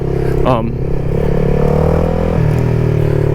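A CFMOTO 300SS sport motorcycle's engine drones loud and close with a sharp rev spike as the clutch is dumped for a wheelie, the rider's voice speaking over the steady engine note.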